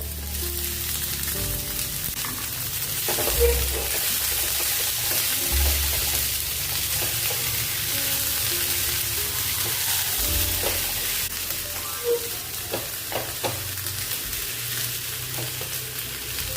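Steady loud sizzling of a semolina breakfast dish with boiled peas frying in a pan without oil, with scraping and clinking of a spoon as it is stirred throughout.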